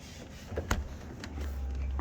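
An electric side mirror motor on a Corvette C5 whirs steadily with a low, close hum, with a few small clicks before the motor sound settles into a continuous drone.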